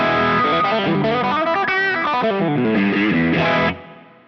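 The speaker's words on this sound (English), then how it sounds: "The Nobel's ODR 1 sounds a bit like this." Electric guitar driven through a Nobels ODR-1 overdrive pedal, a gritty, warm distorted riff of several notes and chords that rings out and then stops, played alone.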